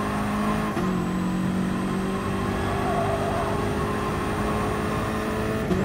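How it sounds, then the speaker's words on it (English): A BMW M6 race car in GT Sport drones and revs with a strong, continuous engine note that shifts pitch through a gear change, alone and steady throughout. "It's my first day driving this M6, by the way."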